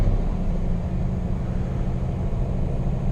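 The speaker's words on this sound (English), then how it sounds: "So the engine there was engine braking" Scania P420 truck engine braking, a steady loud low rumble that roars on without a break.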